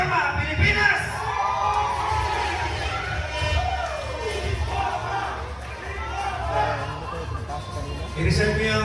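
Large crowd at a Philippine anti-corruption rally cheering and shouting continuously, loud and close, with voices rising and falling throughout and louder bursts near the start and end.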